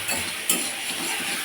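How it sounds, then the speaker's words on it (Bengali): Prawns frying in a pan give off a steady, close sizzling hiss for about a second and a half, with one brief clink of a utensil partway through. "দেখো আমার চিংড়ি মাছগুলো ভাজা হচ্ছে।"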